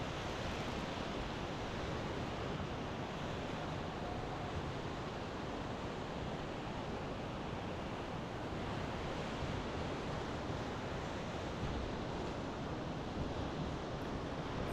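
Steady, distant rush of the Selway River at high water during a rafting trip, a constant broadband roar with no breaks, faint and even, with no voices.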